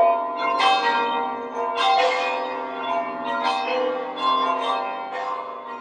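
Church bells at Saint Meinrad ring in a steady, overlapping peal, with clear struck tones and long resonant decay, fairly close and unaccompanied by talk.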